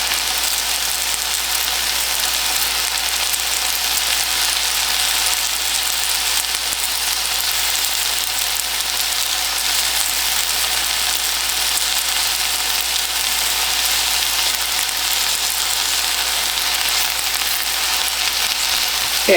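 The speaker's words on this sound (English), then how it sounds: "I said I was going to stir fry the fruits" Garden peppers and fruits stir-fry in a hot pan, giving a loud, continuous, even sizzle that crackles steadily with no voices over it.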